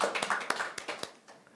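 Scattered hand claps from a forum audience welcoming a council committee chairman to the stage, a handful of sharp separate claps that thin out and fade after about a second.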